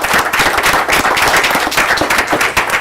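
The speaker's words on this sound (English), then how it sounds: "Let's give her a round of applause." A loud, close round of applause at a school district board meeting, with many crisp individual claps forming a dense, energetic rattle throughout.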